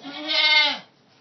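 A baby goat gives a single short, loud, nasal bleat up close, then quiet.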